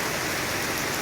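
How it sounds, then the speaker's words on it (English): Heavy rain falls outdoors, a dense, loud, continuous hiss of drops with no pauses and no voices. "it is really, really raining out here"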